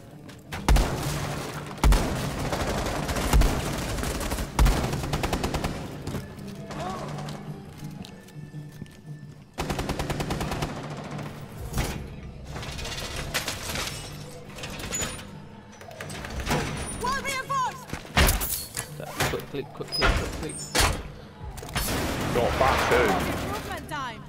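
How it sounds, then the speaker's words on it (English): Gunfire in Rainbow Six Siege comes as scattered sharp shots and short bursts over a busy game soundscape, with players talking throughout. "I need to shoot a bit higher."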